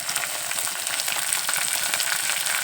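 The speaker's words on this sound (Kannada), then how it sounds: "ಈ ಥರ ಕೆಂಪಾಂಗ ಹುರ್ಕೋಬೇಕು." Ingredients for sabudana upma sizzle steadily in a hot pan being fried until reddish, a dense continuous crackle with no voices.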